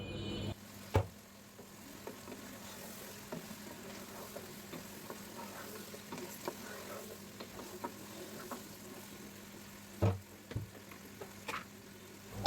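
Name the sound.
stirring and frying spices for mutton biryani in a pan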